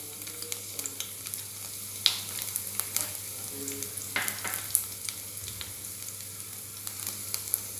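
Smashed garlic and ajwain sizzle in hot oil in a pan, a steady frying hiss with occasional sharper pops and stirring scrapes, close and continuous without speech.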